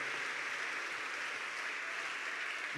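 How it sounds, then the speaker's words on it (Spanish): Congregation applauding at a church sermon, a steady, dense wash of many hands clapping that fills the room evenly from start to finish with no voices on top. "Un aplauso para él, mis hermanos."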